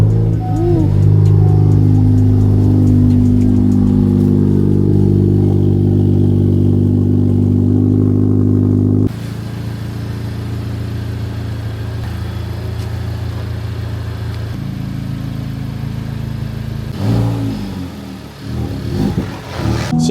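Slammed Honda Civic Type R FL5 on air ride suspension driving through a neighborhood, a loud, steady engine drone heard from inside the cabin, easing in tone midway, with some clatter near the end.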